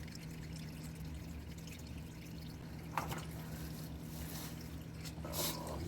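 Engine oil drains from a 2022 Nissan Pathfinder into a drain pan during an oil change, making a faint, steady pouring trickle. A few light clinks come near the middle and the end.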